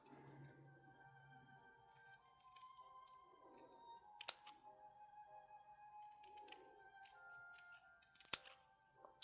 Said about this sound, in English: Cutting 3 strips.